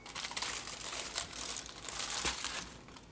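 Sprayed aluminum foil crinkles and crackles continuously and up close for a few seconds, a dense rustling texture with a couple of sharper crunches.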